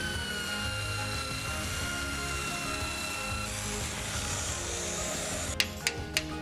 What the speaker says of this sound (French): on passe au traitement de l'acier avec un bon nettoyage à la brosse